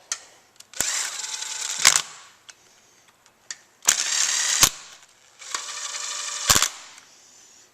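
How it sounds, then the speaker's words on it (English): A speed wrench spins head bolts lightly into a 1995 Suzuki Sidekick engine head, giving three close bursts of rapid, buzzing ratchet-like clatter separated by short pauses, with no talking. "Now I'm just going to do like lightly screw them in with my little speedy"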